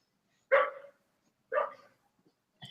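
A dog gives two loud, close barks about a second apart, followed by a shorter softer yip, with silence between each sound and no talking.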